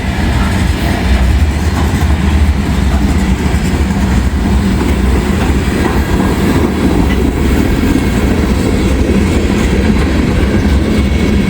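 A mixed manifest freight with grain cars passes near and loud, a steady unbroken roar of rolling wheels and rail clatter lasting throughout, with no one speaking.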